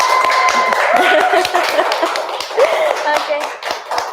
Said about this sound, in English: can you please give her a round of applause?